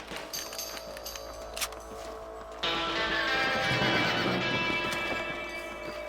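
Horses whinny and snort in a Red Dead Redemption western game scene, a close neigh rising over steady clip-clop hooves on open ground, with faint rain-like ambience and no talk.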